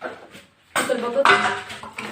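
Fried potatoes are shifted onto another plate, making a few close, sharp clatters of a serving utensil and plate against dishware, with a brief voice mixed in.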